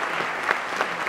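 At a bird and nature film festival, an audience gives a brief burst of steady, dense applause welcoming the film jury.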